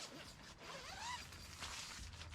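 A zipper running along the fabric of an Ozark Trail 10-person LED instant cabin tent, with one brisk, rasping zip pull over a quiet outdoor background.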